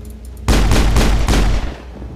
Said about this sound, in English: You can shoot all around, nobody cares.